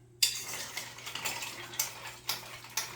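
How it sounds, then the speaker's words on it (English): A bar spoon stirs ice in a copper-mug Moscow Mule, giving a string of light clinks and rattles at close range, with a few sharper knocks spaced through and no talking. "Give it a quick stir with our bar spoon"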